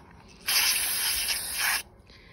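Carb cleaner sprayed from an aerosol can onto an oxygen sensor from a 2006 Ford F-150 4.6L V8, one close, sharp hissing burst of a bit over a second amid quiet.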